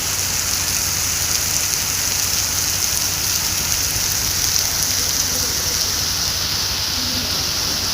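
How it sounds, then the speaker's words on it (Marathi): A downpour of heavy rain fills the whole stretch with a constant, close, wide roar of falling water that never lets up. "अरे पुन्हा पाऊसच पाऊस पडतोय बघा."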